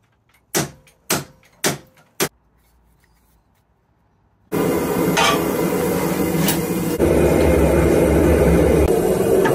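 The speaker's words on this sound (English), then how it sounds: "the first thing I need to do is lop off the end of this steel with the angle grinder" An angle grinder lops the end off a steel bar in a knife-forging shop. Four sharp knocks come first, then a loud, steady, close grinding roar runs to the end.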